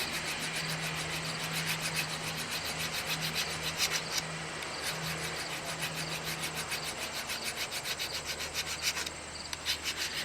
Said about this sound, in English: with that file, should be scratching that whole entire bevel